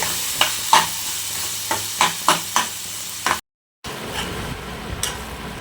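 Tomatoes and cashews cook in a pan for a tofu paneer masala curry, a soft sizzle under repeated sharp taps and scrapes of a spatula on the pan, broken by a brief silent gap.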